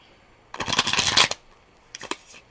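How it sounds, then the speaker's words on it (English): A quick riffle of tarot cards being shuffled, a dense burst of papery flutter followed by a few softer taps and slides. "That was a terrible shuffle."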